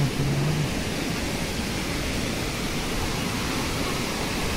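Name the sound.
small stream flowing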